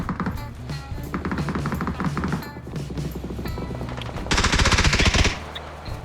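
Automatic gunfire in the video game PUBG crackles in rapid repeated bursts, with a louder, denser volley near the end of the short stretch.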